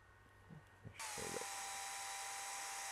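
A power drill boring into a plastic horizontal slider block for a KITFOX aircraft build starts up abruptly after a few soft knocks, then holds a loud, steady high-pitched whine to the end.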